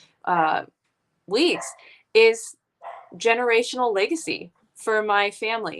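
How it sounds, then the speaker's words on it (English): A roommate's anxious dog barks and yips in the background, short bursts scattered beneath steady nearby talking. "I don't know if you can hear the dog in the background,"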